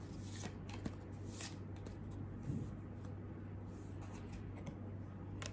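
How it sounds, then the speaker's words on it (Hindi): Tarot cards being shuffled, a faint, steady papery riffling and tapping with soft clicks, close and quiet over a low room hum with no talk. "Let me cleanse these cards for you."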